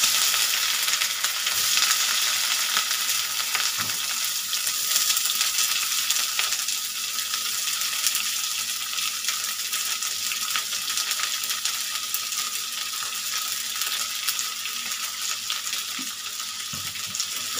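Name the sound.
onions frying in oil with bay leaf and dried chillies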